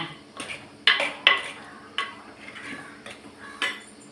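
A spoon scrapes and clinks against a metal pot of eggplant curry with chilli powder in several sharp strokes, irregular stirring sounds close by with no talking.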